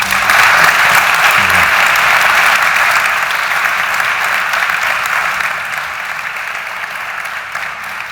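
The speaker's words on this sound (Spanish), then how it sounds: "Creo que merecéis un aplauso." An audience applauds at a sustainability forum on environmental respect and economic viability, a steady dense wash of clapping that holds loud for several seconds, then gradually thins and softens toward the end, with no talking over it.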